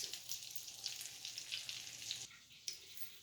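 Cheese-coated onion rings frying in oil, a steady soft crackling hiss running throughout that briefly drops away near the end before resuming.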